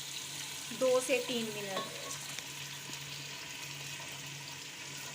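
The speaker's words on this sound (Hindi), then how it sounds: "पहले हम घी में प्याज डालेंगे। बिस्मिल्लाह। इसको फ्राई करेंगे" Onions frying in hot ghee sizzle steadily throughout, with a brief clatter of stirring near the start and a voice speaking briefly over the frying.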